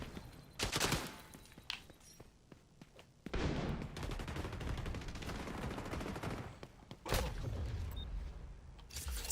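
Gunfire in the online shooter XDefiant, with a few sharp rifle cracks standing apart from a dense stretch of rapid shots and bursts, moderately loud and with no talking over it.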